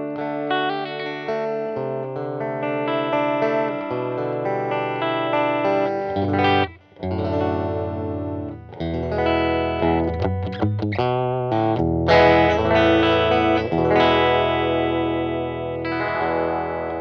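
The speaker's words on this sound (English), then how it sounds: "It's a really nice clean tone. It's quite Fendery in a modern solid state sound." Electric guitar played through a Vox Mini Superbeetle solid-state amp on its clean setting, ringing chords and single notes with light chorus-like shimmer, steady and fairly close, no voices over it.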